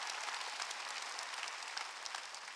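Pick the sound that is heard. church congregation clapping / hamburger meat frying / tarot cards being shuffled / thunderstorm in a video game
church congregation clapping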